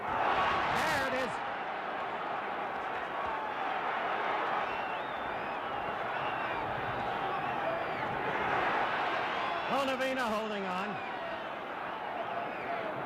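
Arena crowd at the Muhammad Ali vs Oscar Bonavena boxing match, a steady roar of cheering under a commentator's talk, with a whistle cutting through twice.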